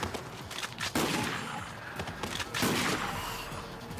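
Bursts of anime gunfire crackle in rapid succession, sharp cracks and rattling volleys, fairly faint and muffled amid background noise.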